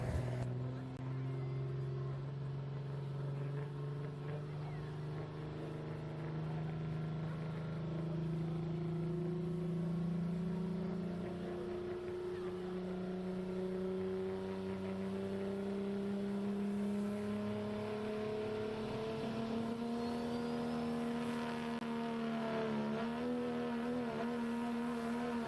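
Kyle Spickerman's pickup truck, called old Jenny, roars at a kids' night truck pull, its engine droning loud and steady with pitch climbing slowly under load for nearly half a minute while an announcer speaks over it.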